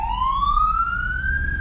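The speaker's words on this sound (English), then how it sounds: "This guy's playing with the siren." A police siren in a Grand Theft Auto game wails steadily upward in pitch, loud and close, over a low background rumble.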